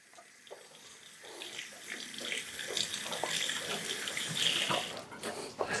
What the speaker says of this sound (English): so I'm washing my hands again.